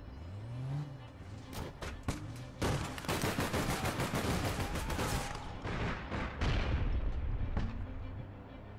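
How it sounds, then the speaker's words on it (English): Grenade blast and gunfire in the video game APB Reloaded: a low engine-like rumble gives way to sharp scattered shots, then a long, loud stretch of dense gunfire and booming bursts that thins out near the end, with no talking. "I'm gonna throw a grenade in."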